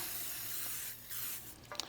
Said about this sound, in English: You want to take your pan spray, just hit all sides.